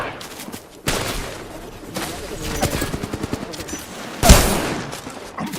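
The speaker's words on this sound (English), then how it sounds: "Taking fire." Video game gunfire crackles in a few bursts and volleys, fairly close, with one sharp loud shot near the end, mixed with game effects and some voice in the background.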